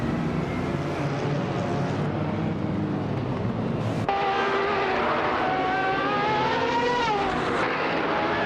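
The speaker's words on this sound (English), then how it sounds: "the race has just kicked off at Autumn Ring" Race cars modeled on the 1992 Peugeot 905 start a race at Autumn Ring in a video game, engines revving and rising in pitch as they accelerate off the line.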